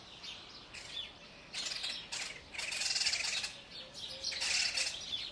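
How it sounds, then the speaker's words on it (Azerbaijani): Birds chirp and tweet in short bursts beside the Arpa river in Nakhchivan, Azerbaijan, fairly faint over a steady background of flowing water. "Quşların səsi,"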